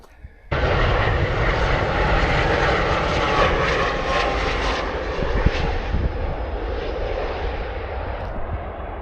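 Airplane engine near an airport, starting abruptly as a loud, close, continuous roar that holds steady and then slowly fades a little, heard alone without talk.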